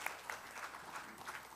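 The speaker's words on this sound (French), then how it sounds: "On applaudit Son Excellence," Audience applause for an ambassador at a committee of experts session of the Conference of African Ministers of Finance, a faint, short burst of scattered clapping with a few sharper individual claps.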